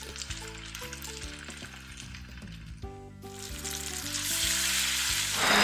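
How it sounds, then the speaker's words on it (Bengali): Tomato frying with turmeric, chili and coriander powder plus splashes of water for an egg curry, sizzling steadily under a background music bed and building to a louder, hissing crackle by the end. "মশলা ধোয়া জল দিয়ে ভালোভাবে 3 থেকে 4 মিনিট ভাজবো।"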